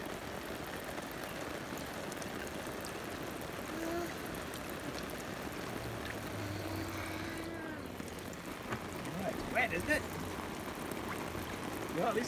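Water sprays from a garden sprinkler in a continuous soft hiss and patter, steady and fairly close, with faint voices now and then in the background.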